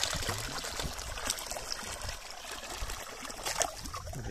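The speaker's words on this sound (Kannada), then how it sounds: "ಇಷ್ಟು ನೀರು ಬರುತ್ತೆ ಒಂದು ಬೋರ್ವೆಲ್ಲಿನ ನೀರಿದು." Borewell water gushing out of a pipe into a farm field near Bangalore, a continuous splashing and trickling flow heard close up, steady and without voices.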